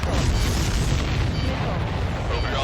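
A missile explosion in the flight combat game Ace Combat 7: Skies Unknown rolls out as a loud, dense booming rumble that stays sustained and heavy throughout.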